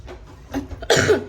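A couple of short, close coughs, the last one louder and harsher, with no talking.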